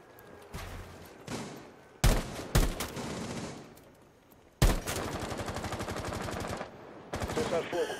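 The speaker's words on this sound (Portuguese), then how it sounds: "Tô levando tiro aqui, nem vi de onde." Rapid bursts of automatic gunfire from the video game Rainbow Six Siege, with several sharp single shots followed by long sustained volleys. Nearby game sounds fill the gaps between bursts.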